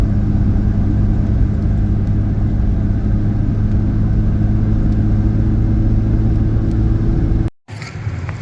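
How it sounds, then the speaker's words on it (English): Car coasting down a road, a loud, constant low engine and road-noise rumble with a steady hum that cuts out abruptly near the end before resuming; nobody speaks. "We're just coasting down the road here right now"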